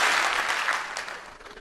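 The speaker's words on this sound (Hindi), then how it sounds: "जब भी मैं हेलो बोलूंगा आप एक बार ताली बजाएंगे" A crowd at a network marketing training session claps together on cue, a short burst of applause that starts loud and trails off over about a second and a half.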